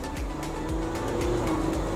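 A 2023 Ford Everest Platinum seven-seat SUV accelerates, its engine note heard from inside the cabin as a steady, rising drone with gear changes.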